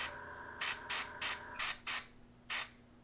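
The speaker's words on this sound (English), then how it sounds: "I'm going to spray it from an angle" Aerosol spray paint is sprayed at an angle onto a wooden doorway model for the Shadows of Brimstone board game, six short, close hissing bursts separated by brief pauses.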